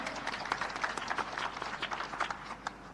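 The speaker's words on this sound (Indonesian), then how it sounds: "Tepuk tangan untuk beliau." An audience at a national creative economy event applauds, giving a brief burst of scattered clapping. It sounds moderately distant and fairly light, with individual claps standing out rather than a thick roar.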